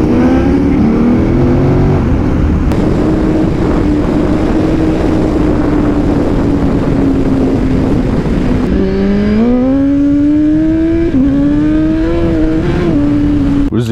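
A Suzuki GSX-R motorcycle engine runs loud and close, holding a steady idle hum before rising into higher revving tones with a few blips, and a faint voice is briefly audible.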